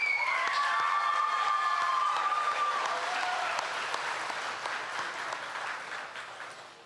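Audience applause and some cheers fill the hall at the Choctaw Nation Princess Pageant, dense clapping that gradually fades, with a few whistles near the start.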